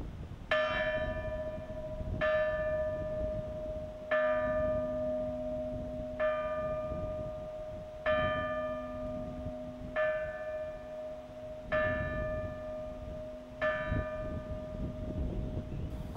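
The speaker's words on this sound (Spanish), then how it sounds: "una ermita del siglo XIII, cuyas campanas repican cada 13 de junio celebrando el santo del patrón, San Antonio." Church bells of the 13th-century hermitage of San Antonio ringing, a steady sequence of resonant bell strikes about every two seconds with long humming overtones, moderately distant, alone without talk.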